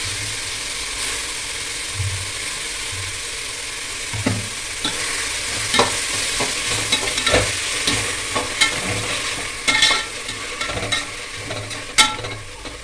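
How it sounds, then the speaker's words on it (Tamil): Coriander, mint and curry leaves go into a frying pan and are stirred, giving a continuous sizzle broken by scraping and clanking of a spatula against the pan, close and fairly loud. "கொத்தமல்லி, புதினா, கருவேப்பிலை இது 3த்தையும் போட்டு ஒரு கிளறி விட்டுக்கிறேன்"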